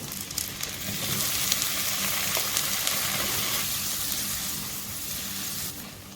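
Paneer pieces with green chilli sauté in a hot pan for shahi paneer, giving a steady, loud broadband sizzle that runs unbroken throughout.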